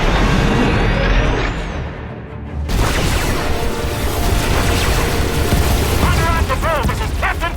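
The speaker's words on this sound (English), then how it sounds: "Defensive cannons activated." Spaceship defensive cannon fire and explosions in Star Wars: The Old Republic, with loud booming blasts and a continuous rumbling roar, while a voice talks over it.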